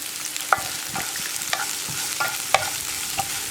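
Banana podimas mixture frying in a pan while being stirred, a steady sizzle with a spoon scraping the pan in repeated, roughly rhythmic strokes, close and clear with no talking.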